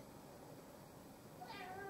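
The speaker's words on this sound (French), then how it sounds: "mon chat qui miaule" A house cat gives a short meow late in the moment, rising briefly over steady room noise in a quiet indoor setting, with no talking.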